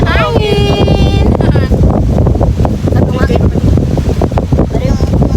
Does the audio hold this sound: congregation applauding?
no